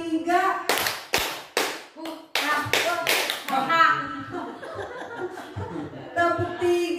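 A group claps along in a classroom-style counting exercise, several sharp bursts of hand claps in short clusters alternating with an adult voice talking, with children chuckling faintly in the background.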